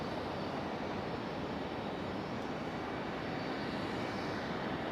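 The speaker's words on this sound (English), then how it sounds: "looks like we got an E175 pushing back" An Embraer E175 jet pushes back at Raleigh-Durham International Airport at night, with a steady, broadband roar of idling engines and airport ambience holding at a constant level throughout, without a voice.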